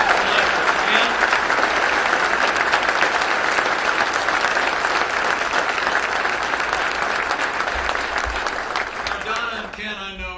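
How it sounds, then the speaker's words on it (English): Sustained applause from an audience in a room full of workers at Miller Electric in Jacksonville, Florida, honoring a man named Ken Mortensen; dense, loud clapping fills the whole stretch, thinning slightly at the end. "would you join me in giving a warm round of applause to Ken Mortensen"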